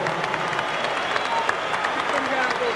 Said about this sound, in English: let's have a round of applause for these two heavyweights